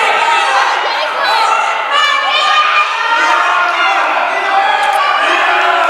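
A large, loud crowd cheers and shouts at a high school wrestling match between Portland/South Portland and Cheverus/Massabesic, a sustained roar of voices with excited whoops and yells.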